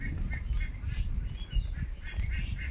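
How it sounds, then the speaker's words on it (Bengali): Ducks quacking by a river on a rural char riverbank, a dense, continuous chorus of overlapping quacks, fairly close and loud, with no talk. "এই তো আবার হাঁসগুলো চলে আসছে।"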